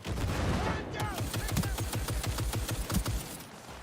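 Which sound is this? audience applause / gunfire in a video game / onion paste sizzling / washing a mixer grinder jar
gunfire in a video game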